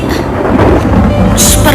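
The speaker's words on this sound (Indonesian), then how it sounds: "Iya. Ada petir." Loud thunder rumbles heavily and close, a sustained deep roll with a bright crackling burst near the end, as a storm gathers before rain.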